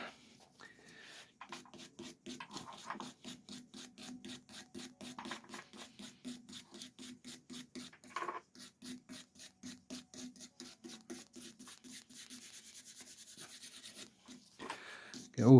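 Stiff hand brushes scrub Volvo XC70 AWD propeller drive shaft parts, a steady run of quick rhythmic rasping strokes, close and moderately loud, continuing for the whole stretch with a brief knock near the end.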